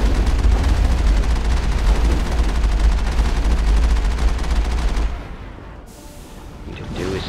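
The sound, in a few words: gunfire salvo in Mass Effect video game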